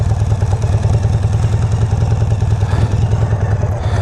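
A chopper motorcycle cruising on an open road, its engine a steady, loud, close rumble with a fast pulsing beat and some mechanical clatter, holding an even pace throughout with no talking.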